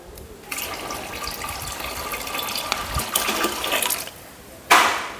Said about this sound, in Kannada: ಇದಕ್ಕೆ ನಾವು ನೀರನ್ನು ಕೂಡ ಹಾಕುವಂಥದ್ದು